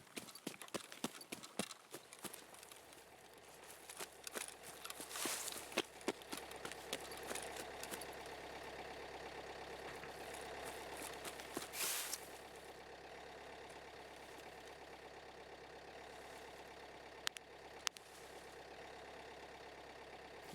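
A car engine idles in the video game Escape From Tarkov, a steady low hum running throughout, with a cluster of sharp clicks at the start and a few isolated ticks near the end.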